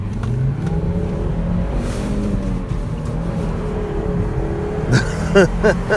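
A Volvo V50 T5 AWD turbo wagon with a six-speed manual pulls hard in a 0 to 60 run, its engine note steady and loud from inside the cabin, with a few sharp knocks and a short rising whine near the end.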